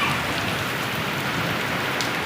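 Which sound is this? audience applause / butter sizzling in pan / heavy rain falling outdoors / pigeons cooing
heavy rain falling outdoors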